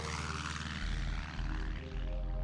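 A stunt plane flies overhead at an aerial magic show, its propeller engine droning loud and steady throughout with a rhythmic low pulsing, heard alone without talk.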